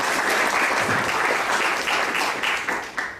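Audience applause at a university book presentation in Peru: a dense, steady burst of many hands clapping, sustained for a few seconds before starting to thin out.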